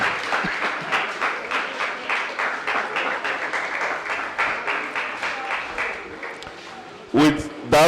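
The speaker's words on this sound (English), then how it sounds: "Please give them a round of applause as they go to their seats." A school debate audience claps steadily for several seconds, a dense patter of applause that gradually thins before a voice cuts in at the end.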